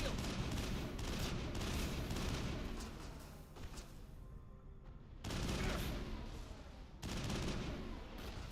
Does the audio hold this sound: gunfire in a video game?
yes